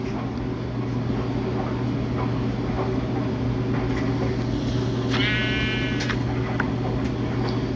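A Minecraft sheep in Pocket Edition (Bedrock) gives a single wavering bleat about five seconds in, heard over a steady droning hum and scattered ticking game sounds.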